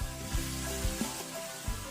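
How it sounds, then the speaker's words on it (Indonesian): Red chilies fry in very hot oil for an Indonesian balado dish, giving a continuous crackling sizzle with a few soft thumps of stirring at regular intervals. "Goreng cabai sampai matang dan tidak berbau langu."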